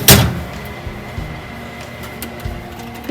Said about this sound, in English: Okay, shut the door.